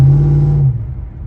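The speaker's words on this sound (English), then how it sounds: "if I hit the accelerator," LT1-swapped Mazda truck engine, a low loud droning roar with a strong steady tone that cuts off partway and falls to a quieter rumble.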